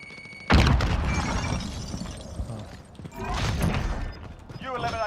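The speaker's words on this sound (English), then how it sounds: "Throw a grenade." A grenade goes off in a first-person shooter game with a sudden loud boom, and debris clatters and rumbles afterward while game sounds and voices carry on.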